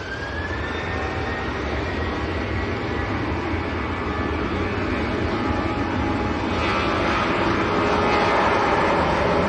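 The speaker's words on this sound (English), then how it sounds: "Ryanair next to go." Ryanair airliner departing Manchester Airport, a loud broad jet roar that builds steadily over several seconds, heard from nearby without talk.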